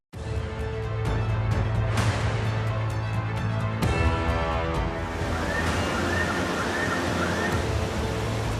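Floodwater rushes over a flooded road lined with shops in a steady, loud, broadband wash that never lets up, with a faint voice-like tone partway through.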